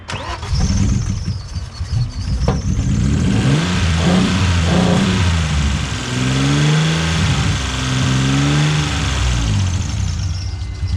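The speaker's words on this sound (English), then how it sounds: "Start it with throttle." A Vauxhall car engine cranks and catches, then is revved hard on the throttle in loud, sustained rising and falling bursts close by, with no talking.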